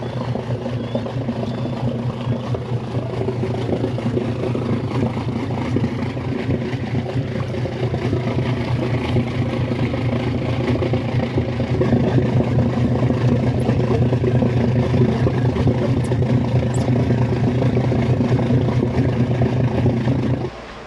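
Old mechanical diesel boat engine, smoky and loud, running steadily at close range with a constant low droning rumble that swells slightly louder partway through and then cuts off at the end.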